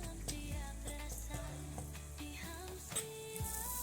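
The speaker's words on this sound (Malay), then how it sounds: "Kita goreng-goreng." Donut dough frying in hot oil, with a steady sizzle and bubbling under scattered kitchen clinks and clatter, close and fairly quiet.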